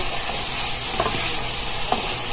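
String bean adobo (sitaw) heats in a pan and gets stirred, giving a steady close sizzle with a couple of soft spatula scrapes and no talking.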